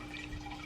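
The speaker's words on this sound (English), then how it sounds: "If you guys hear that running water, that is my fish tank" Water from a home aquarium runs and trickles in a steady, soft, continuous wash. It stays faint and close, with no voices over it.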